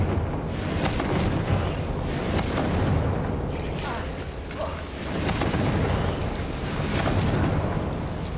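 Confringo explosive spell blasts in the Hogwarts Legacy video game, heavy rumbling booms and crackling impacts rolling in waves, loud and sustained, with a voice speaking over the action.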